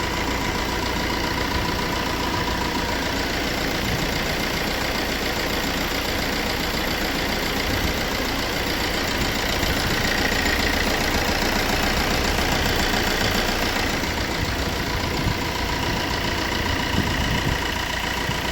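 A Tata Zest diesel engine with an overheating fault idles continuously, a low even rumble with a faint knocking texture holding level throughout, close and fairly loud, with no voices.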